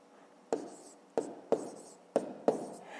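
Five sharp taps of a pen writing numbers by hand during a fifth-grade maths exercise, spaced unevenly about half a second apart, each a crisp close strike with a short fading scratch, no voices.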